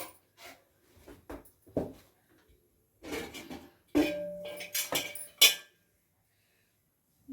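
A metal lid goes onto an idli steamer pot in a home kitchen, with several light clinks and knocks spread out, then a sharper metallic clatter as the lid settles.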